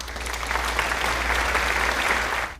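Theatre audience applauding at the close of a show, a dense, steady wash of clapping from many hands that holds at an even level for about two and a half seconds, then cuts off abruptly.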